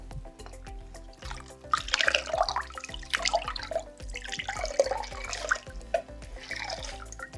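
Yarn skeins are dropped into a pot of yellow dye water, giving close splashes, sloshing and dripping liquid in uneven bursts over a faint steady background.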